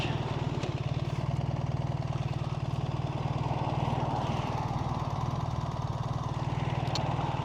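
Steady drone of a BMW R1300GS Adventure or Ducati Multistrada V4 Rally engine during a test ride, with constant wind and road noise and no clear break for a gear change.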